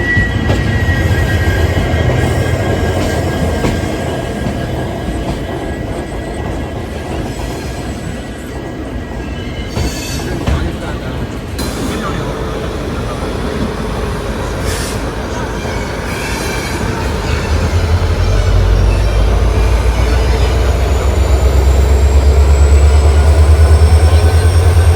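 Passenger train in sleeper class running near Mysore on the way toward Bangalore: a steady, loud rumble of rolling carriages with rail clatter and a faint wheel squeal, continuous throughout, the low-end rumble swelling near the end.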